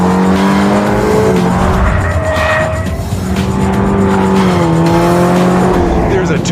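A car with a 2.4 liter engine, swapped in for the original 2.0, accelerating with a loud, close engine note whose pitch climbs, dips and climbs again, under a voice talking over it.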